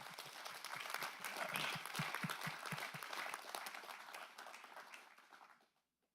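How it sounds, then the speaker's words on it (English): A round of applause rises from the audience at a county board of supervisors meeting, a steady crowd of clapping hands that holds, then thins and fades to silence at the end. "Now we'll give him a round of applause."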